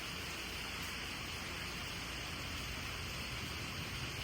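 Heavy rain pours steadily during Hurricane Helene, a dense, even roar of broadband hiss that holds without a break from start to end.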